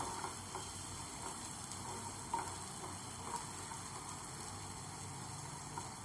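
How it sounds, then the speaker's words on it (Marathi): Finely chopped curry leaves and other ingredients frying in hot oil in a pan, a faint, steady, continuous sizzle close by with a few light stirring taps and no voices. "हे व्यवस्थित फ्राय करायचं।"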